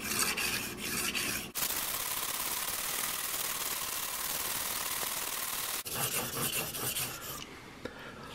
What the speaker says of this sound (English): our 1200 grit plate, and we will repeat the process, get a burr on this side